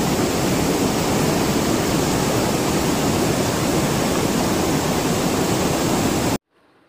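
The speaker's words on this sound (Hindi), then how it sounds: "ये जो वाटरफॉल है ये one of the famous waterfall है एमंग 20 वाटरफॉल्स इन इंडिया" Bhagsunag waterfall in monsoon flow, about 30 feet high, roars as a steady, dense broadband rush of falling water, loud and unbroken until it cuts off abruptly near the end.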